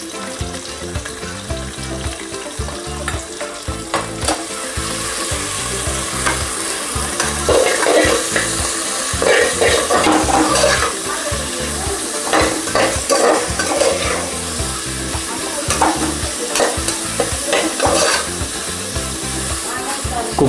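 Onions and green chilies fry with a little salt in a pan, a steady loud sizzle with frequent clattering stirs and scrapes that grow busier midway, close up and without voices.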